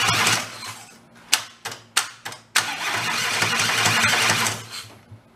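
Starter motor cranking two blown-up engines joined together, a long whirring grind broken by several sharp, loud clunks as it strains, then a renewed steady churn that winds down near the end, close with no talk.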